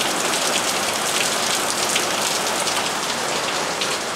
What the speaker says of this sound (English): It's like 4 a.m. and it is just coming down, pissing rain.